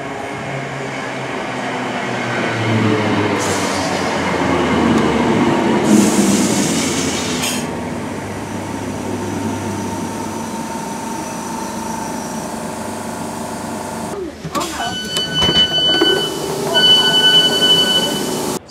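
A Class 68 train bound for Alderley Edge rumbles through a station, its wagons clattering steadily. Wheels squeal and clank near the end.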